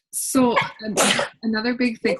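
A single sharp sneeze bursts out at the start, followed closely by a person talking.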